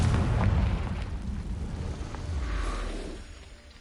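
A Confringo blasting spell explodes in Hogwarts Legacy, a loud, rumbling boom with crackling debris that lingers for several seconds before fading.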